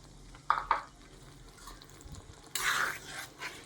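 Sauce for chilli chicken is stirred in a pan, with a couple of soft utensil knocks followed by a sudden bright sizzle as liquid hits the hot surface, close and moderately loud.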